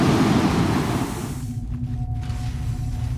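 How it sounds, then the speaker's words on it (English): Snowstorm wind roars in Star Citizen, a dense, continuous rushing gust that eases slightly partway through and plays alone with no voices. "It's way too windy, I can't hear anything."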